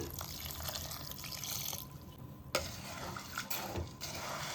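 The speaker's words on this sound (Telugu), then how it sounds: "అప్పుడు 1 గ్లాసు వాటర్ వేద్దాం" Water pours steadily onto jaggery in a pot, a close rushing splash that briefly thins mid-way before resuming, with a light clink or two.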